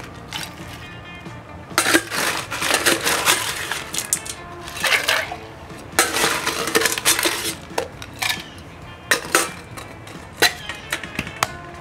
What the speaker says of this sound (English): Once you have everything in your mixer, add your ice.